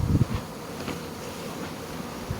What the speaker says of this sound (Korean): 벌들 막 비가 막 잠깐 멈춘 사이에 막 난리가 아닙니다